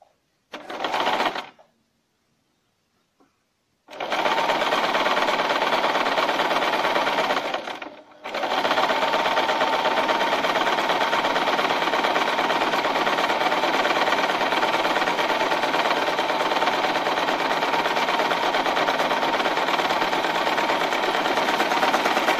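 A Singer 1408 sewing machine stitches a wide zigzag in rapid, steady bursts: a short run, a pause, then a long continuous whirring stretch broken by one brief stop, loud and close with no talking.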